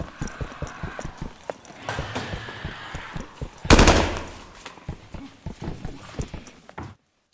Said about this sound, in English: Currently, only one of the gun sounds is there.